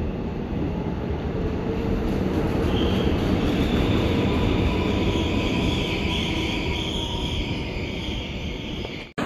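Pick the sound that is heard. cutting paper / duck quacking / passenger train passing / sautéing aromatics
passenger train passing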